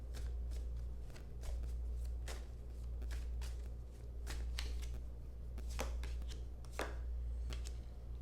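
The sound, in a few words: shuffling guidance cards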